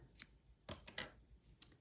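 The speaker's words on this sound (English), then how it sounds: "we're just going to take our scissors and go ahead and give this a cut" Scissors cutting crochet yarn on a sea turtle coaster, a few soft, crisp snips spaced irregularly, close and quiet with nobody talking.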